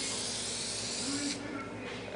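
A spray can hisses in a continuous, close burst of airy spray, steady for about two seconds before easing slightly.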